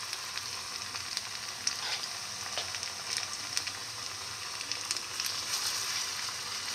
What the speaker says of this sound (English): And fry as we did before until all the fritters are nicely made.